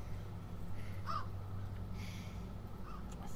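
Crow cawing in the video game Neverending Nightmares: two brief caws, one near the middle and a fainter one near the end, over a steady low ambient hum.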